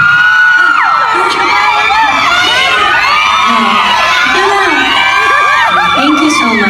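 Fans at an awards event honoring Kathryn Bernardo and Alden Richards, a loud, dense crowd of high-pitched screams, whoops and cheering that stays sustained throughout, with shrill voices rising and falling over one another.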